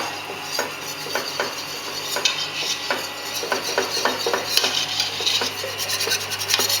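Khandvi batter of gram flour stirred continuously in a pan over medium flame, with repeated rasping scrapes of the spoon against the pan in an uneven rhythm, close and clear.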